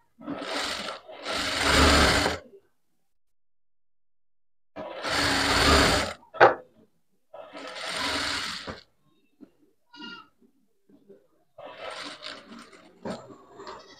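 Sewing machine stitching a blouse in short bursts of rapid mechanical whirring, with quiet gaps and a few lighter clicks and taps between runs, close and moderately loud.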